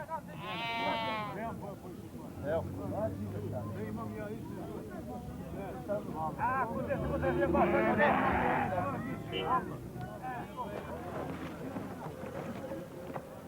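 Sheep at a May festival livestock market in Shuto Orizari, Skopje. Several loud, wavering bleats sound close by, mixed with crowd noise and voices talking throughout.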